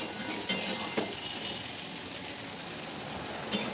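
Potato and cauliflower curry with prawns cooking in a pan, a soft steady sizzle with occasional light clinks and stirring scrapes, fairly quiet and close.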